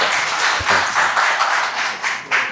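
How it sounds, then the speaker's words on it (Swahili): Audience clapping at a business event as a guest speaker is welcomed, a steady patter of many hands with a few louder claps rising and falling through the short stretch. "makofi kwa ajili yako"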